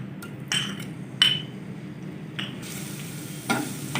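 A spoonful of garlic in two to three tablespoons of hot oil, frying gently in a pan for a chicken bread patty filling, makes a soft steady sizzle alongside a few bright scrapes and clinks of a spoon stirring.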